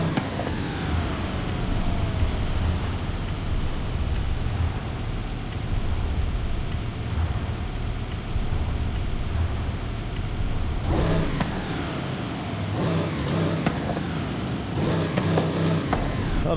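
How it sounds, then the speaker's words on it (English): In Forza Horizon 5, a car engine with a turbo revs continuously nearby, rising and falling, with a thin whistling turbo whine riding over the roar and sharper bursts near the end. "I can hear the whistling turbo."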